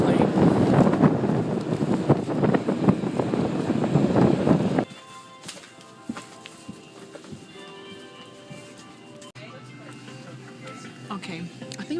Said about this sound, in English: Never in my life have I flown on such a small plane.